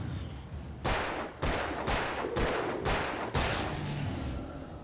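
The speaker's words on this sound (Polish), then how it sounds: "6 naboi, 2 strzały ze strzelby i 2 z karabinu myśliwskiego" Five loud gunshots from a shotgun and a hunting rifle in a video game boom out at about half-second intervals, each with a short reverberant tail.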